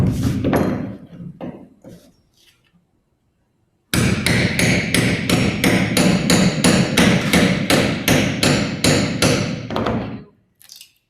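A cat's paw struck with a hammer pulls a nail from wooden floorboards; a few scattered knocks are followed by a fast, steady series of loud, close, ringing hammer blows, with no talk.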